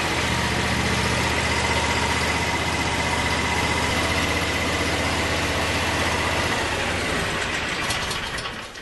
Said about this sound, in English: we'll fire up the tractor, make sure nothing's leaking